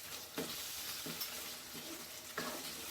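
Rajma prawn curry masala sizzles steadily in a frying pan while a spoon stirs it, four distinct scraping strokes landing at roughly even intervals over the constant frying hiss.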